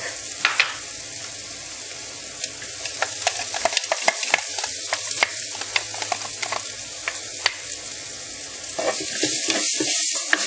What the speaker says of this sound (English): the onions are browning nicely, so add in your ginger and garlic